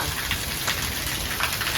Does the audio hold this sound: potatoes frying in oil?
no